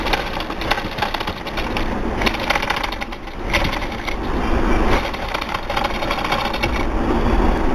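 A sewing machine stitches lace onto a designer neckline, its motor whirring in close, loud bursts with brief pauses between runs.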